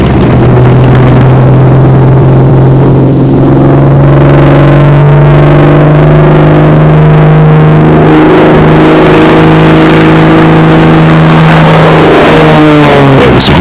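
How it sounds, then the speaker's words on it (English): Focke-Wulf 190 V1 prototype fighter taxiing on Bremen's airfield, a loud continuous piston-engine drone with steady low harmonics that rises toward a revving surge near the end, no talk over it. "the first 190, known as V1, taxied down Bremen's airfield to put the new theories to the test"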